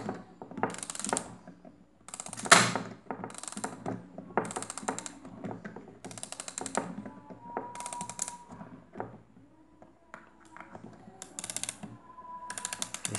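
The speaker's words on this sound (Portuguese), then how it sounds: "Vamos agora dar uma corda aqui para a gente ver" Winding a cleaned, lubricated mechanical watch movement with its pallet fork not yet fitted, heard as close, faint bursts of fine ratcheting clicks in an uneven rhythm with brief gaps between them.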